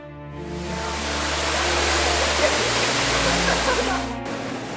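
A roaring waterfall at Devil's Pool, a broad steady rush of falling water heard up close, loud and continuous with no voices over it.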